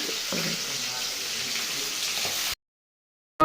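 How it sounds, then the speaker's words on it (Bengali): Fish frying in a pan in a home kitchen gives a steady, broad hiss of sizzling oil for about two and a half seconds, fairly loud and constant, with faint background clatter, then cuts off abruptly. "মাছটা ভেজে নিই"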